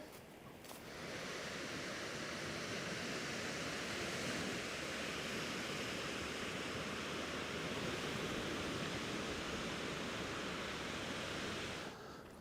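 Waves wash onto a beach lined with German WW2 bunkers, a steady broadband surf roar at moderate distance that holds constant throughout with no voices.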